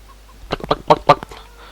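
A short burst of rapid clucking from a rooster in Farming Simulator 17, several quick close calls in a row, loud against a quiet background.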